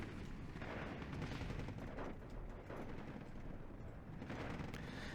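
Steady rumbling barrage of bombing and artillery fire in the WWII strategy game Steel Division 2, dense overlapping booms and distant blasts filling the whole stretch without a break.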